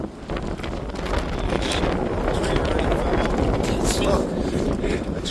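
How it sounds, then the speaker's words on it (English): Strong gusting wind buffets the microphone outdoors on a rooftop, a loud steady roar with broadband rumble throughout, with faint voices underneath. "it is fucking windy, bro"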